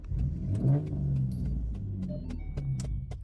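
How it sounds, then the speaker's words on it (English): A car engine runs with a steady low rumble and a rising rev, close and loud throughout, with brief higher clicks over the drone and no talking. "my car make noise when I turn it on"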